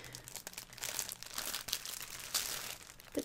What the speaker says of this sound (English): But they do make nice crinkling sounds. It's just some sheer tights